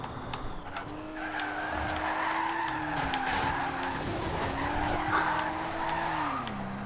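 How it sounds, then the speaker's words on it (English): A 2014 Tesla Model S in Forza Horizon 2 drifts off an exit ramp, its tires squealing in one long, loud, wavering skid that holds for several seconds over the engine's whine. "How many times have you seen the Tesla Model S being drifted off an exit ramp?"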